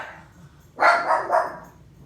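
A Doberman Pinscher barks indoors at home, a short burst of two or three loud, close barks running together after a quiet start.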